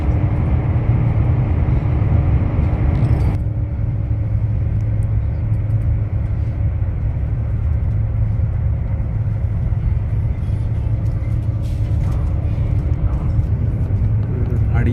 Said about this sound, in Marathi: किती फास्ट चालली आहे गाडी.